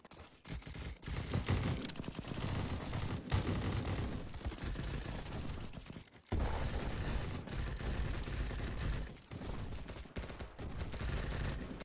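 Rapid gunfire in a Roblox video game, sounding like toy cap guns, crackles in dense, continuous bursts for about twelve seconds, with only brief gaps and no talking.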